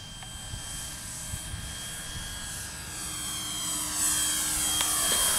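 An Avios Grand Tundra 1700mm RC plane on 6S power makes its maiden flight, its electric motor and propeller whining steadily and swelling louder as it nears.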